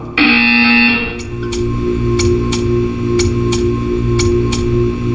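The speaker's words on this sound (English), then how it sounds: "When you hear the buzzer, stare at the art." A loud electronic buzzer from the video game Portal 2 blares for about a second, followed by a steady series of sharp ticking clicks over a low hum.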